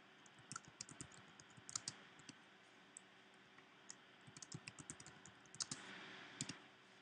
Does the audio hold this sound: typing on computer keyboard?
yes